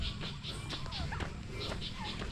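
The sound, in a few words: turkey gobbling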